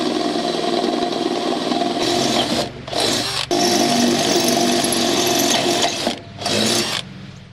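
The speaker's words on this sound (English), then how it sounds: "So I'm going to drill 2 holes and use a harmonic puller instead." A power drill bores holes into a rusty pulley from a 52-year-old brush mower, a loud, close, sustained grinding whine that cuts out briefly twice as the drill pauses and restarts.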